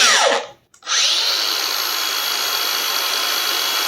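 A cordless angle grinder, a Makita, Milwaukee or DeWalt unit, winds down in a falling whine and stops within a second, then restarts and runs with a steady, loud, high-pitched motor whine, close by with no talking.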